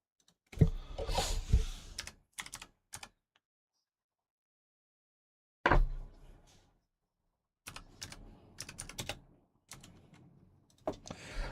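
Bursts of fast keystrokes clatter on a computer keyboard, close and crisp, in several separate runs broken by pauses of near silence.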